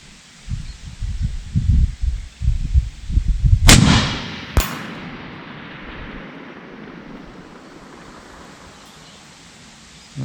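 A Tikka T3X Ace Target rifle in .308 fires one loud, close shot at a 1000 m target, followed by a quick second crack and a long fading echo across open ground, with wind rustling before it.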